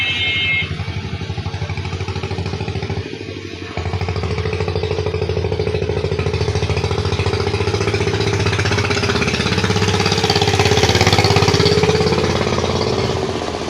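A Japanese 80cc motorcycle engine in poor condition runs at a repair workshop, a close, steady mechanical chug with some clatter that dips briefly near the start and then carries on evenly. No one speaks.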